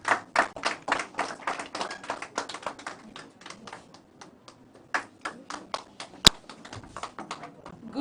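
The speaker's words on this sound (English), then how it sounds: "Please, let's give her a round of applause." Audience at a political event unveiling a vice presidential nominee, applauding with scattered, uneven claps from a modest crowd, moderately close and continuing for several seconds with a brief sharp click near the end.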